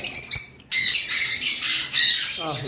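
Pet birds kept for sale give harsh, bright squawks and shrill calls in quick overlapping bursts, loud and close, with a short gap early on and a lower call near the end.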